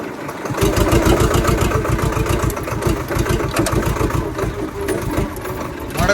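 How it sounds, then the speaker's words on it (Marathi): A Swaraj 724 XM Orchard tractor engine chugs steadily while driving, a loud, close, even diesel rhythm that runs without pause after a brief quiet start. "तर मित्रांनो चाललोय बघा घेऊन ट्रॅक्टर"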